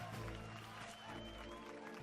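Crowd cheering in the Final Fantasy XIV video game, a dense, distant wash of applause and massed voices that stays faint and steady throughout.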